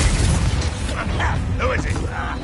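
A Confringo spell blast in the Hogwarts Legacy video game, a loud burst and rumble under a shouted voice amid battle effects.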